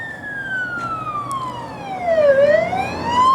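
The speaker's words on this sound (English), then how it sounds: "there's an ambulance here" An ambulance siren wails loud and close, its tone sweeping down and back up, with road traffic rumbling underneath.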